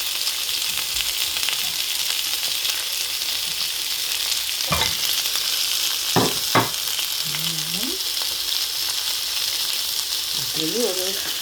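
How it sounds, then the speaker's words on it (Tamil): Generous amount of large red onions sautéing in a pan for a spicy chicken curry, a steady close sizzle throughout with a few sharp clinks of a spoon against the pan. "வெங்காயம் கொஞ்சம் தாராளமாக வதக்கலாம்"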